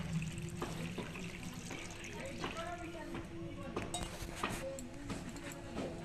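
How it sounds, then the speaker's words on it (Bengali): Water poured into a bowl of flour while making nimki dough, a faint splashing trickle broken by small clinks of a utensil. "এবার আমি জল দিয়ে দেবো।"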